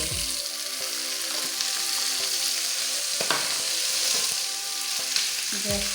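Cumin powder frying in a hot pan, a steady close sizzle with faint scraping stir clicks running continuously throughout, no voices.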